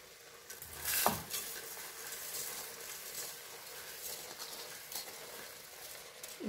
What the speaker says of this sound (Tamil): அரிசியை ஆட் பண்ணுவோம்.